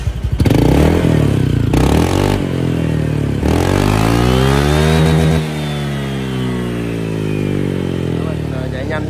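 A Honda Vario scooter with an aftermarket ORPR exhaust revs up close, its engine note rising and falling through several throttle blips and one long climbing rev, with a voice talking over it.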